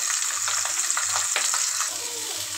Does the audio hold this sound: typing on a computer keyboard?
no